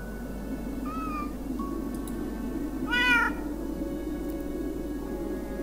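A cat in the video game Raincliff meows, with a short call near one second and a louder rising meow around three seconds, heard over a steady low background hum with no talking.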